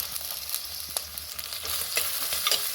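Green chillies and onion sizzle loudly in a hot pan for a Kerala prawn curry while being stirred, a constant hiss broken by irregular scrapes and light clinks of the utensil against the pan.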